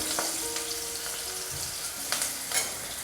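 Green chillies frying in hot oil, a continuous close sizzle and bubbling with a few soft clinks from stirring, no talk over it.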